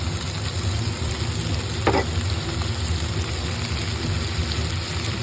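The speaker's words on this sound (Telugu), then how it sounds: "ఆనియన్స్ ఫ్రై అయినాయి" Onions fry in a pan for tomato curry, a loud continuous sizzle close up with one brief scrape of a spoon stirring partway through, no talking.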